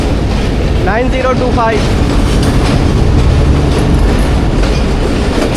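The Karakoram Express rolls past close by, a loud continuous rumble of wheels and carriages with brief squealing near the start and faint voices in the background.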